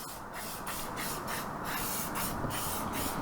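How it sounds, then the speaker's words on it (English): SC1 detailer sprayed onto a dirt bike frame: a quick series of short, close hissing spray bursts in a steady rhythm, with no talking. "Give it a little spray."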